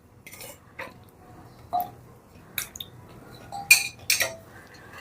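Pieces of drumstick (moringa) are dropped into a pressure cooker in a home kitchen, giving sparse clinks and knocks of metal and vegetable against the pot, about six separate close hits over a quiet background.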